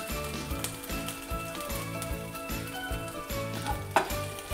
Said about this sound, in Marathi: थोडंसं परतल्यानंतर हिरव्या मिरचीतला तिखटपणा कमी होतो।